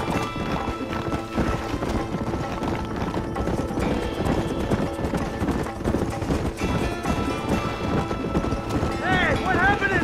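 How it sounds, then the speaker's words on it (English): Horses gallop steadily in the Western video game Red Dead Redemption, a continuous thudding clip-clop of hooves with a whinny near the end, under music and voices talking. "Get on your horses."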